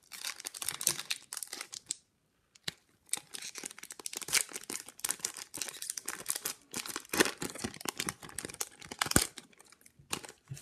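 A 2016/17 Fleer Showcase trading card pack is torn open and its foil wrapper crinkled and crumpled, with close, busy rustling bursts and one short pause near the start.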